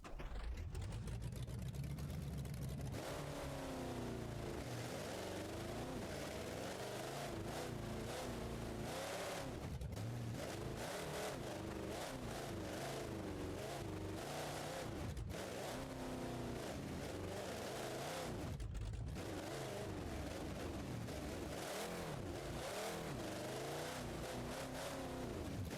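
A Poverty Truck engine in BeamNG.Drive drones and revs continuously while driving, the pitch rising and falling with throttle changes and a few brief dropouts, loud and close without speech.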